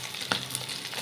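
An egg hits a hot pan beside boiled pasta and sizzles in a steady, close, moderately loud hiss, with a couple of faint clicks over the continuous frying sound.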